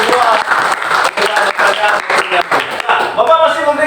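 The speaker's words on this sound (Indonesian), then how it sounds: "Tepuk tangan untuk semua" Loud, close applause from a class or audience during an Indonesian lesson session, a dense wash of clapping lasting several seconds with some voices mixed underneath.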